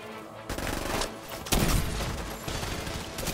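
Gunfire in The Division 2: dense bursts of rapid shots and fusillades, loud and close, with a heavier burst midway and no speech.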